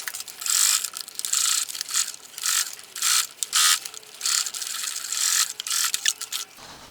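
Sewing machine stitching around a fabric hem, a fast mechanical rattling run in repeated bursts with short pauses between, close and fairly quiet, no talk.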